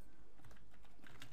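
Keys on a computer keyboard clatter in a quick, steady run of soft taps, close and quiet, with no voice over them.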